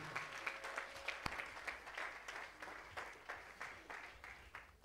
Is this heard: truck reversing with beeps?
no